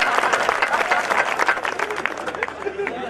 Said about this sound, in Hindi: एक बार जोरदार ताली बजाओ सर के लिए।